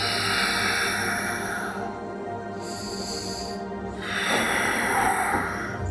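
Slow, deep breathing during a seated yoga twist, close and loud, with long airy exhales and inhales following each other in an even rhythm.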